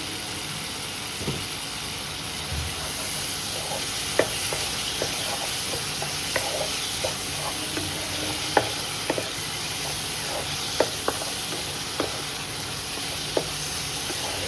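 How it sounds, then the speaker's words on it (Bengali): Spice masala for Chinese-style katla fish with capsicum stir-fries in oil, a constant soft sizzle and hiss punctuated by scattered sharp scrapes and taps of a spatula against the pan, with no one speaking. "এবার আর খানিকবার এটা একটু কষাবো, তেলটা আর কি ছেড়ে এলে তারপর আমি এর মধ্যে জল অ্যাড করবো।"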